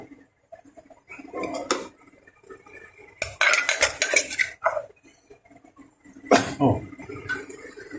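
Food is scooped from a pot into a bowl after steaming fish, with clinks and scrapes of a utensil against cookware in a few close, clattering bursts separated by quiet gaps.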